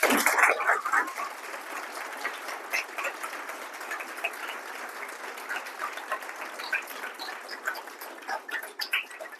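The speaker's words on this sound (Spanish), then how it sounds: "le agradecemos con un aplauso" An audience at a scientific talk on two-step melting claps to thank the speaker, a steady broadband patter of many hands sustained for about nine seconds at moderate level with no talking.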